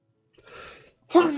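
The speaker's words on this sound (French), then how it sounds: "je crois que je vais éternuer" A brief intake of breath, then a short, sharp sneeze bursts out close by.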